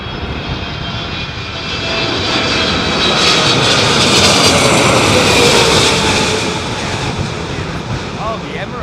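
Jet engines roar steadily from an Emirates airliner at Heathrow Airport during a storm, with gusty wind noise mixed in, a broad loud rumble that swells in the middle and eases toward the end.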